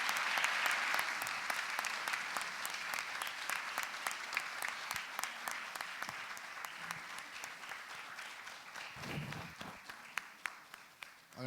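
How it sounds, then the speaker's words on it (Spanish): Sustained audience applause fills the hall after an academic conference at a humanities symposium, a dense steady clapping that holds for the whole stretch before thinning slightly near the end. "Un fuerte aplauso."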